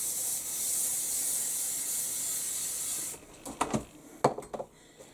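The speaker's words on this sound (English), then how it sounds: "I use some temporary spray adhesive, and I just spray it on the foam away from the machine and table." Temporary spray adhesive is sprayed onto foam for bag sewing. A loud continuous aerosol hiss lasts about three seconds and then stops abruptly, followed by a few soft rubbing and handling noises.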